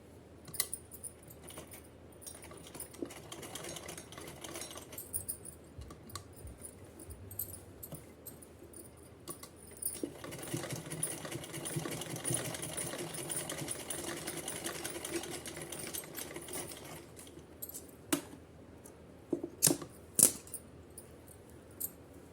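A sewing machine stitching a green fabric piece for a small dress, running in quiet bursts with a soft mechanical whir and occasional light clicks and metallic taps, close and faint.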